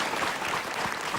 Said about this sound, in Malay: Kita beri tepukan kepada mereka.